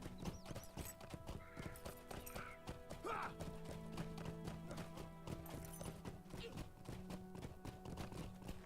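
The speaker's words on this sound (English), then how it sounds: "Yeah, horse." A horse's hooves clip-clop steadily and it gives a neigh in Lord of the Rings Online, set against continuous fantasy game music at moderate volume.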